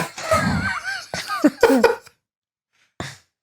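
A man coughs hard several times in quick, close succession, then falls silent before one more short cough.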